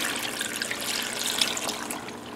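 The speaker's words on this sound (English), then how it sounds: "I'm going to put an extra 2 cups of water in here." Water pours steadily into an Instant Pot pressure cooker for chicken soup, a continuous soft splashing trickle that runs throughout without pause.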